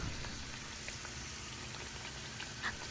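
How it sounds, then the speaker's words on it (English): Heart-shaped dough deep frying in oil, giving a faint, steady bubbling crackle with scattered pops and no voices. "simply deep frying them in oil"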